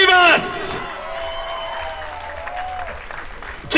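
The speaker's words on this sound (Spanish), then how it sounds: "Fuerte aplauso para vicealcalde María del Pilar Rivas" Crowd applause for the vice mayor at a Peruvian flag-raising ceremony in Paterson, opening with a loud amplified voice and then continuing as a steady, moderately loud wash of clapping with a faint sustained tone underneath.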